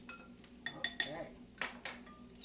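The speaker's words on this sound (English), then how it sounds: "we're going to whisk this all up here a little bit" A whisk scrapes and clinks against a metal pan while flour is stirred into the mixture for a chicken fried steak gravy, with several sharp metallic taps and scraping strokes at close range over a low background.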